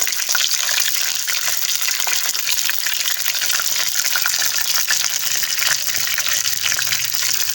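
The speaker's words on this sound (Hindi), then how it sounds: "घी जब गर्म हो जाए तो हम लोगों ने एक एक करके हम लोग इसको फ्राई करेंगे।" Stuffed eggplants fry in hot ghee with a loud, dense, continuous sizzle close to the pan, steady throughout.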